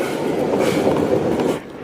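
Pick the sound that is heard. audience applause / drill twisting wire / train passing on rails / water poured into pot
train passing on rails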